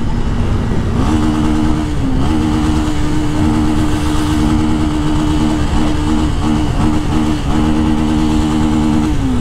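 A brand-new Honda Twister motorcycle engine idles steadily close to the microphone, a loud continuous low drone with slight wavering and no revving.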